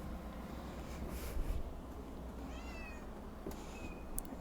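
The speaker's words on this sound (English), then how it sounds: "Let my silly cat out so he can whine on the other side of the gate." A house cat meows near a gate, its thin rising cries coming in a few short calls over steady background hiss, fairly faint and with no talking.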